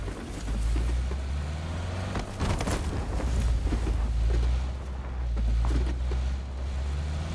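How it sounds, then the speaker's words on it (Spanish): A car engine rumbles steadily at close range, a low continuous drone that swells and eases slightly over several seconds, with no voices. "Oigo el carro atrás"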